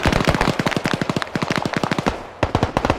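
Arma 3 gunfire in a desert battle: rapid bursts of automatic weapons rattle in quick, sharp volleys, close and loud, with a short pause before another burst.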